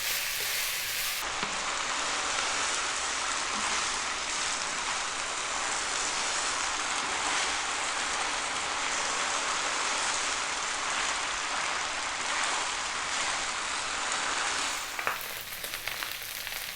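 Chicken fried rice frying in a pan over high heat, a loud, continuous hissing sizzle with faint stirring scrapes that runs without a break for most of the time, with no talking.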